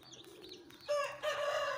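Golden heavy buff and aseel chickens cluck and call together in a small home poultry setup, a steady layered flock sound that swells louder midway with no one talking.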